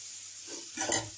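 Paneer pieces frying in a pan for a royal red paneer dish, a soft steady sizzle with stirring that swells louder near the end, close by with no talk.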